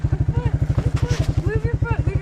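A quad's engine is turned over by its starter with a rapid, even, throbbing pulse close up, over about two seconds, while voices talk over it.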